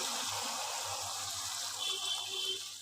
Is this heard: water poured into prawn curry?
yes